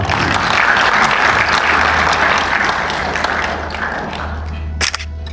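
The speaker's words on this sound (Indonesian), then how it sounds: "Tepuk tangan untuk Bapak" Audience applause for the mayor of Malang at a graphic design training opening at Hotel Ijen Suites, a loud sustained clapping from a crowd that thins out toward the end, with a low hum underneath.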